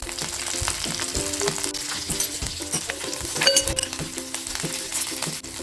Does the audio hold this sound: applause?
no